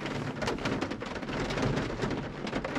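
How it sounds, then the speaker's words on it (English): Heavy rain pours down on a very wet day, a dense, loud, continuous patter with crackling drops splashing close by throughout. "And it's still raining."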